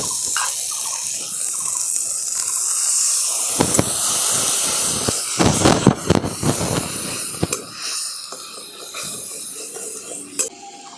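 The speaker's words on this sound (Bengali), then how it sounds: "এবার মশলাগুলো যাতে পুড়িয়ে না যায় আমি অল্প একটুখানি জল দিয়ে দিচ্ছি।" Water poured into spices frying in a pan for a fish korma, a loud hissing burst of steam up close that settles into crackling bubbling, with a few sharper spatters and clinks and no one speaking.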